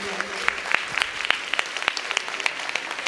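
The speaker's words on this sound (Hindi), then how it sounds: "महिलाओं को तो जोरदार तालियां बजा देनी चाहिए।" An audience at a Jain Ratna award ceremony in Tulsi Nagar, Indore, claps in loud, sustained applause with sharp individual claps standing out, and a voice is heard faintly underneath.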